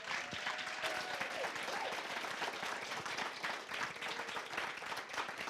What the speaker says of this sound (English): Can we give another round of applause for David Mura?